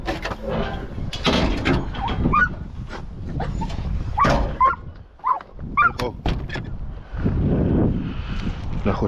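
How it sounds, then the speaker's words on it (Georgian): A dog out on an old field on a windy day, barking in short bursts mixed with whimpers, with wind buffeting the microphone and someone talking at times. "დღეს გამოვიყვანე ჩემი ძაღლი"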